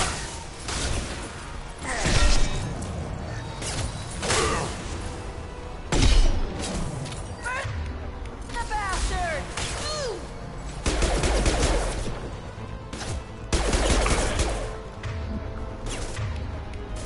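Gunfire in the sci-fi shooter Mass Effect 2, with repeated loud shots and bursts mixed with impacts and crashes throughout a running firefight, and voices calling out between them.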